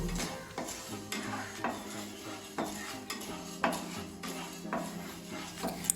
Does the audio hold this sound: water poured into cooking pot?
no